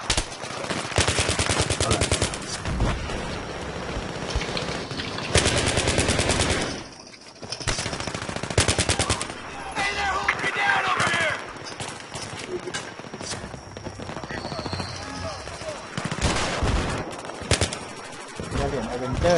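UMP submachine gun firing in Battlefield 3, loud rapid automatic bursts repeated across the stretch with brief pauses, mixed with other gunfire and game noise, a voice talking over parts of it.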